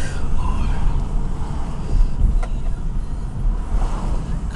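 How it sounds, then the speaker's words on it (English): Traffic rumbles past on a narrow city street, heard from inside a moving Mercury Sable with low road and engine noise and a passing whoosh, close and steady. "There are even cars coming."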